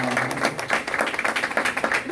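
A Korean church congregation at a revival service claps together in a dense, rhythmic burst, with voices mixed in among the clapping.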